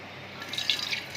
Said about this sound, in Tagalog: So salain natin dito. Ilagay natin sa garapon.